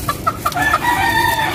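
Chickens at a new plastic nest in a flying pen cluck and crow up close, a quick series of clucks leading into a sustained crowing call, loud and clear.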